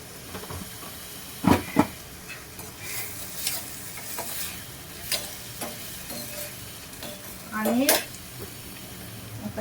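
Tomatoes with a little salt cooking in a pan, a low steady sizzle broken by a few scraping stirs and clanks of the spoon, close and fairly quiet, no talk.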